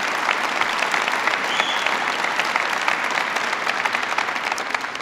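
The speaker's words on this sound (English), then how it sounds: "Please give Bill a big round of applause." Loud, dense applause from a large crowd for the governor at a presidential bill-signing event, a continuous wash of clapping sustained throughout.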